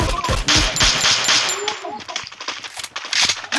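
Rapid bursts of gunfire in an online shooter video game, loud and dense at first, then thinning into scattered shots with voices talking over the action.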